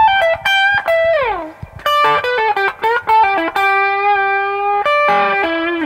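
A cigar box guitar with a coil-tapped, out-of-phase pickup plays through distortion: bright, thin, sustained notes with quick slides and bends, heard alone without talk.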